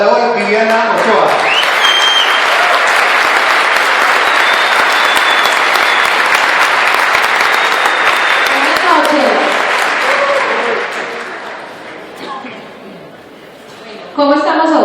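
A live audience claps loudly and steadily for a speaker being welcomed onto a stage at an entrepreneurship talk, a dense ovation that holds for about ten seconds before thinning out and fading.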